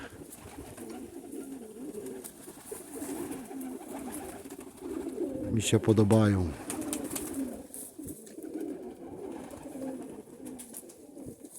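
Pigeons coo in low, throaty bursts nearby, loudest in the middle, while a person speaks briefly over them.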